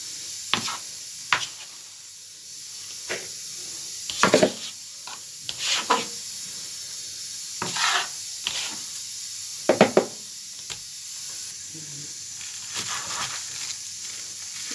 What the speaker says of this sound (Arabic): خلاص البصله دخلت في التحمير